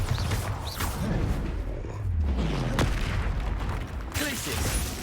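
Bombarda blasting spell going off in a Harry Potter video game: a dense, continuous roar of explosive booms and crackling blasts over a low rumbling bed, loud and sustained, with a sharp burst near the middle.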